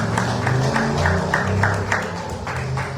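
A church congregation clapping hands together in steady rhythmic beats, a dense crowd sound filling the room with a low musical hum beneath.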